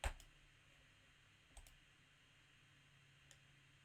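Computer mouse clicks come as three sharp, faint, isolated taps spaced more than a second apart over a quiet room hum.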